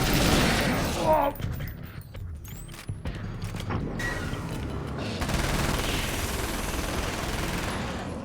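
Rapid bursts of Uzi and machine gun fire ring out in Alan Wake's American Nightmare, dense crackling volleys that thin out briefly before a steadier stretch of shooting, all at moderate level with game sound around them.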